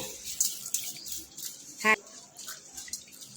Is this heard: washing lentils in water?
yes